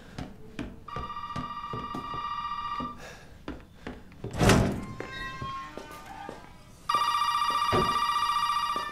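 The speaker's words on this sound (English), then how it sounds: "Oh, the phone is ringing." A telephone rings in the video game Resident Evil 7 with two bursts of steady electronic ringing. Between them come dull thunks and a louder knock or slam, with no voices.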